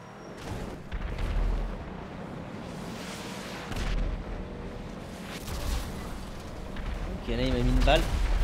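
Gunfire and explosions in a Rockstar video game about RPGs versus armoured cars, with scattered shots and deep booms rising and falling while players talk over the action.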